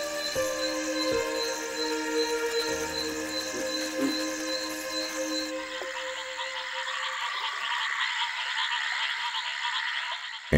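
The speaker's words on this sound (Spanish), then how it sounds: "las ranas arborícolas comienzan sus orgías" Tree frogs calling after rain at night, a dense chorus of overlapping croaks and trills that runs steadily throughout, loud and continuous with no voices.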